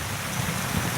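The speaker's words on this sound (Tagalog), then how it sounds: "Malakas ang ulan, bumabagyo." Heavy typhoon rain in Manila: a loud, dense, continuous rush of downpour with low rumbling swells, heard alone for a brief moment.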